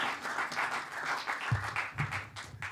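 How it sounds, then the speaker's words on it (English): A concert audience applauds a jazz saxophonist, dense steady clapping filling the whole stretch, fairly close, with a few louder bursts and no talk over it. "how about a huge round of applause for Mr."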